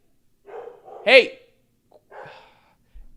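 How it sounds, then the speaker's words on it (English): Dogs barking indoors in a hallway, a couple of sharp close barks with breathy huffs around them, separated by brief silences. "They're just barking in the hallway."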